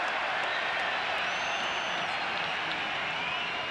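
A record football stadium crowd at a match involving Australia roars and applauds in a dense, continuous wash of noise, steady and distant-sounding throughout, with no clear individual voices.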